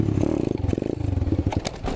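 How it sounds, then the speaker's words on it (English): An Apollo 125cc dirt bike chugs with a rough, pulsing engine note that sputters and fades as it stalls mid-wheelie, with clattering mechanical noise close by and no voices. "it stalled out mid wheelie"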